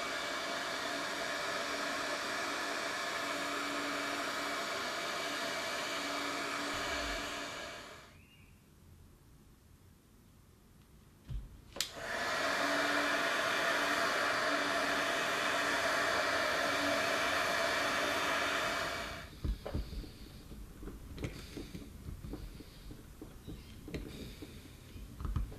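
Hot-air blower gently warming a Fender Stratocaster guitar pickup to soften glue, a steady broadband rushing that runs for several seconds, stops, then starts again for a long stretch before cutting off, close and fairly quiet.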